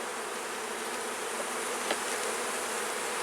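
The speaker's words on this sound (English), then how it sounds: "So we want to help this hive go into overdrive." Honey bees buzzing at an open hive, a steady, dense hum of many insects close by, unbroken and moderately loud with no voices over it.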